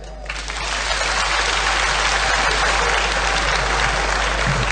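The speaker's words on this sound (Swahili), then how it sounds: "waomba mpigie kwanza makofi" An audience at a formal Kenyan reconciliation event bursts into applause, swelling quickly into loud, sustained clapping from a large crowd that continues steadily throughout.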